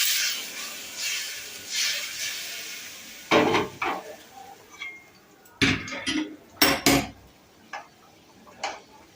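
Mustard hilsa fish curry being stirred in a pan: scattered clinks and scrapes in short bursts over a soft background hiss, close and moderately loud, with quiet gaps between strokes.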